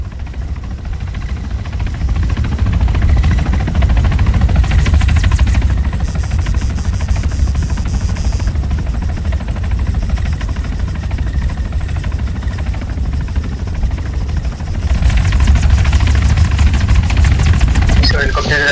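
A helicopter in the video game ArmA gives a loud, continuous rotor and engine drone, swelling in places, while players talk over it.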